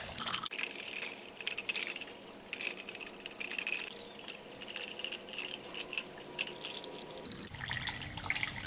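Water pours steadily into a plasma cutting table's water tray, a continuous splashing and dripping rush that carries on before changing character briefly near the end.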